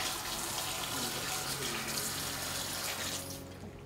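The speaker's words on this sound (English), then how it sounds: "and we'll rinse that off with water" A veterinary gastroscope is rinsed under running tap water after an enzymatic soak, a steady broadband rush of faucet flow filling most of the clip before easing off near the end.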